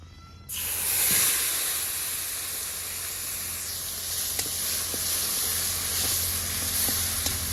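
Onion and garlic paste hits hot oil over a cumin and bay leaf tempering for a pangas fish curry, bursting into a loud, sudden sizzle that settles into a steady close hiss with faint pops.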